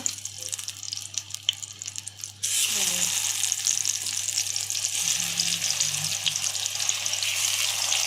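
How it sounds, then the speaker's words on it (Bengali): Eggplant slices frying in hot oil in a home kitchen, a steady, close sizzle that jumps louder as the pieces go in and then holds a constant hiss, with faint clinks underneath. "বেগুন ফ্রাই হচ্ছে"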